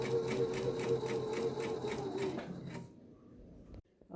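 A sewing machine stitches all the way around a fabric bonnet, a steady close mechanical whirr with a fast even pulse that runs for under three seconds, then stops into near silence.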